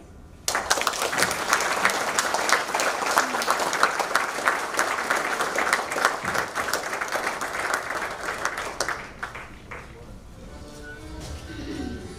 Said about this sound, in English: Let's give one more round of applause to Rika and Manoj